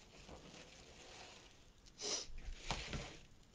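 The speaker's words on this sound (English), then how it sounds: "Usually I don't sneeze that loud." A single loud sneeze bursts out near the microphone during quiet wreath-making with blue and silver ribbon and snowflake decorations, followed by a second sharp exhale.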